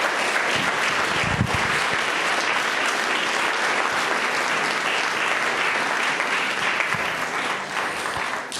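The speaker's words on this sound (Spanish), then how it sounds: "Den un aplauso al Señor" A church congregation claps together in praise, a full, continuous round of applause from many hands that holds steady for several seconds and then begins to fade slightly at the end.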